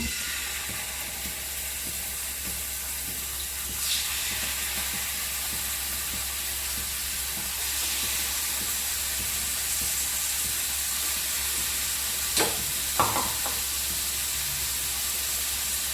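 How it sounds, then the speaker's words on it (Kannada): Prawns masala frying in a pan gives a steady, loud, hissing sizzle that carries on throughout, with a couple of brief clatters near the end and no talk. "ನೋಡಿ, ಫ್ರೈ ಆಗ್ತಾ ಉಂಟು"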